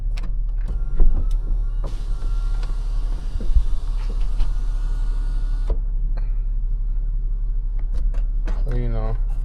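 A 2018 Lexus RX 350 sunroof motor runs open with a steady electric whir lasting about four seconds, over a constant low cabin rumble, with a few faint clicks and brief vocal sounds around it.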